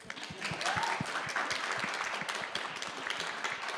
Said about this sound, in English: Come on, let's do a real round of applause.